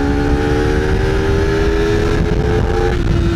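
Honda CBR250RR motorcycle engine revving hard as the throttle opens, a loud sustained high-pitched whine with steady tonal harmonics, close and alone without talk.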